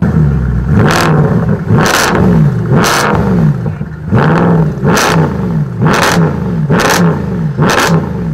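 A Dodge Viper supercar's exhaust revs hard in a series of roughly seven sharp, loud throttle blips at a steady rhythm, each one rising and falling back, close and with no voices over it.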